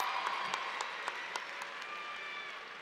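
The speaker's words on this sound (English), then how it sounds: "So, yes, give yourself a round of applause." A graduating class at a spring commencement applauds, a steady wash of many hands clapping at moderate distance, even and sustained with faint individual claps standing out, no voices over it.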